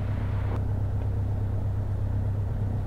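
A Piper Arrow light aircraft's engine runs steadily before flight, a close, continuous low engine drone and rumble with a brief click near the start.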